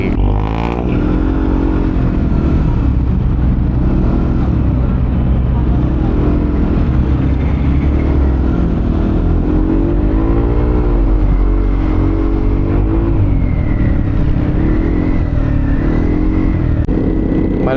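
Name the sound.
road traffic with motorcycles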